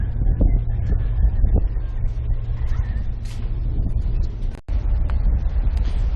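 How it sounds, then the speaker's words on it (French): Steady wind buffets the microphone on a seafront in New Zealand in a low, continuous roar, with a brief dropout partway through and faint surf-like hiss underneath. "il y a pas mal de vent"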